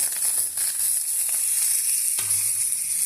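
Tempering of mustard seeds, cumin, onions, green chillies and curry leaves frying in hot oil for a cabbage and moong dal curry, a bright continuous sizzle with occasional stirring scrapes and small pops, close, no voices.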